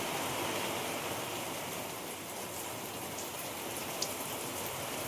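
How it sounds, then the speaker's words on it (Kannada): Steady rain falls outdoors, a dense even patter on surfaces heard close and moderately quiet, with no voices. "ಈ ಕಡೆಲ್ಲ ಒಂದಿಷ್ಟು ಮಳೆ ಆಗತೈತಿ."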